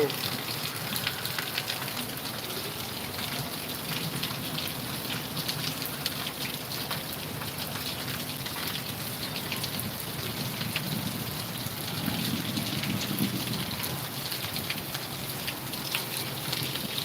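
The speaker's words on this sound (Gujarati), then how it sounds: "ગાજવીજ સાથે વરસાદ પડી રહ્યો છે" Rain falls steadily in Rajkot amid thunder, a constant hiss of drops, fairly faint and unbroken throughout, with a slightly heavier patch toward the end.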